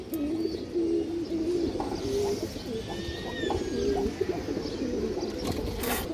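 Large pigeons in a loft coo in steady, low, throaty burbles, several birds overlapping close by, with occasional faint chirps and soft clicks throughout.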